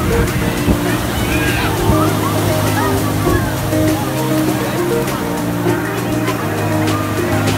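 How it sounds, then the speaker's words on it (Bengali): Big sea waves surge and break over a swimmer in the surf at Puri's Golden Beach near Swargadwar, a steady loud roar of churning water close by, with people talking underneath. "তাও বড় বড় ঢেউ আমার মাথার উপর দিয়ে চলে যাচ্ছে"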